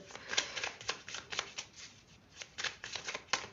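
A deck of tarot cards is shuffled and cut by hand, making quick, papery riffling bursts and soft flicks in an uneven rhythm, close and fairly quiet, with no talking.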